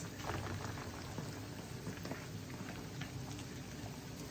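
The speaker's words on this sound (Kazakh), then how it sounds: "жуамыз бен фаршымыз қуырылды" Steady, dense sizzling and crackling of chopped onions and minced meat frying in a pan, continuous throughout with no pauses.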